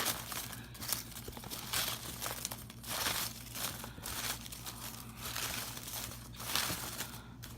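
Folded pieces of paper are stirred and shuffled for a giveaway draw, producing continuous soft crinkling and rustling in uneven waves over a low steady hum.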